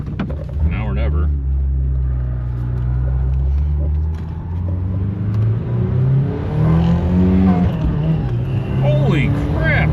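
A rare turbocharged sports car, parked for 35 years, revs loudly and close, its engine rising and falling with a spooling whine while someone talks over it.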